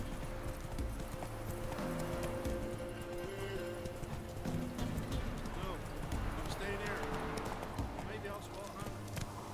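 A horse gallops in The Witcher 3, with rapid rhythmic hoofbeats running steadily beneath game music and a voice talking over it.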